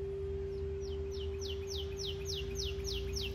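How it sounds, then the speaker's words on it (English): Loud, rapid series of bird chirps repeating steadily outdoors, close and clear over a constant low hum and background noise. "do you feel like the birds got louder"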